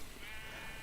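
A sheep bleats in Minecraft with the FTB Resurrection modpack, one brief, faint, thin call sitting in a quiet game background.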